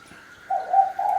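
A derkuku or tekukur dove coos close by, giving three short, soft, hooting notes in quick succession after a brief quiet start.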